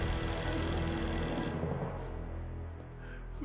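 A telephone rings loudly in a tense film scene, a repeating electronic bell that sounds on its own with no talk and fades a little toward the end.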